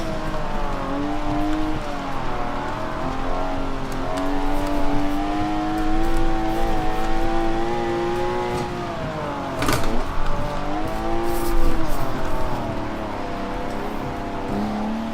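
Car engine in Forza Motorsport 7 on Xbox One, played with a Logitech G920 wheel, drones steadily as the revs rise and fall through gear changes, loud and continuous with no talk.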